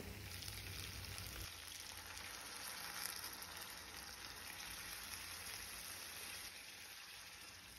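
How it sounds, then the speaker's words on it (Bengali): Water poured into a pan of sizzling cooked snakehead fish, heard as a steady, soft crackling sizzle with a brief change near the start and no talk. "এবার পরিমাণ মতো আমি জল দিয়ে দেবো"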